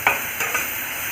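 Onions fry in hot oil with tempered spices and curry leaves for coconut milk pulao, a loud steady sizzle broken by a few brief stirring scrapes, close and with no voices.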